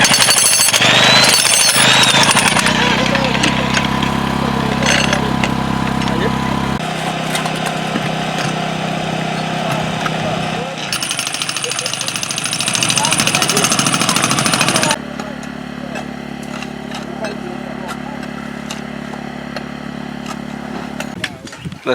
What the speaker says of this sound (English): They are now using a jackhammer on the biggest chunks of rock.